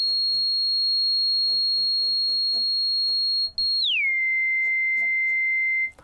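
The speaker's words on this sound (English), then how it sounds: "So we're hearing oscillator 2 there." A steady pure tone from oscillator 2 of a Sequential Take 5 synthesizer holds one pitch, then glides smoothly down to a lower sustained pitch, loud and clean with faint clicks behind.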